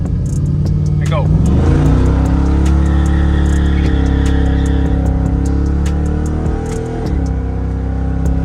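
A Chevrolet Silverado with a Turbo 400 transmission roars through a burnout, the engine revving loud and close with rising and sustained tone, voices talking over it.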